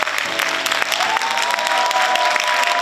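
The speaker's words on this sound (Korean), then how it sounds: "여러분 큰 박수로 한병두 위원장님을 무대 위로 모시겠습니다" Audience applause at an outdoor political rally in Jeonbuk, South Korea, steady loud clapping from a large crowd with a faint sustained tone beneath it.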